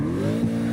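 Brief engine rev in CarX Drift Racing Online with a rising harmonic whine and a short tire squeal, loud and close, no talking.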